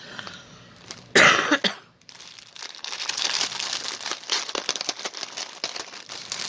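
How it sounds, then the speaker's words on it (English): Crinkling plastic bag holding a big wad of cross stitch threads, a sharp close burst of crumpling followed by steady softer crinkles and rustles throughout. "I'm going to hang on to that plastic bag"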